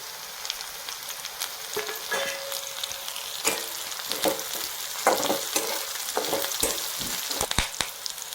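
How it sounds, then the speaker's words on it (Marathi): Finely chopped curry leaves fry in a pan for an onion and peanut chutney, giving a steady sizzle throughout with scattered crackles and scraping clicks as they are stirred. "आता बारीक कट करून घेतलेला कढीपत्ता सोडून देऊ आपण याच्यात"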